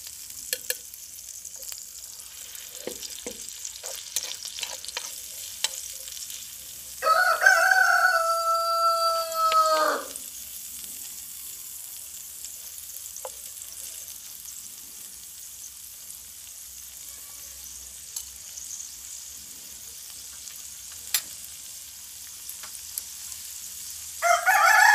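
Tagine ingredients seasoned with salt fry in a pot with a steady, soft sizzle throughout; a rooster crows loudly midway and again at the very end.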